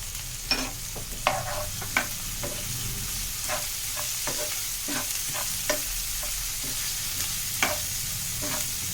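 Cabbage and mixed vegetables sauté for vegetable fried rice, giving a constant loud sizzle broken by a dozen sharp spatula scrapes and knocks against the pan at an uneven pace. No speech.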